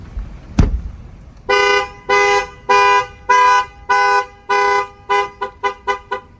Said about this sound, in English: The alarm fires off.